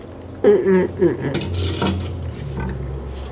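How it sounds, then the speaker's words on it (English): A metal spoon scoops beans from a pot, giving a couple of bright ringing clinks against the rim followed by soft scraping and a faint thud, close and fairly loud. "Let's maybe get a couple of beans on our spoon."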